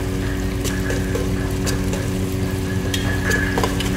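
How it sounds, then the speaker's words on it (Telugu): Onions, ginger and garlic fry in hot oil in a pan, a steady sizzle broken by several short stirring scrapes, close and continuous with no talk. "ఉల్లిగడ్డలు, అల్లం ఎల్లిగడ్డ స్మెల్ రాకుండా మంచిగా ఫ్రై చేసుకొని పసుపు వేసుకోవాలి"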